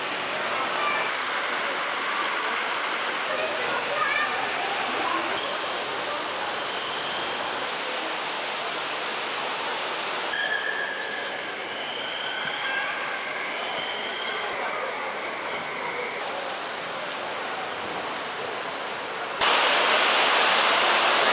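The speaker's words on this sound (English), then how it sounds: "this is supposed to be the highest waterfall indoors in the world." Indoor waterfall in the cloud forest dome at Gardens by the Bay, Singapore, a loud continuous roar of falling water with faint voices and chirps mixed in, steady throughout.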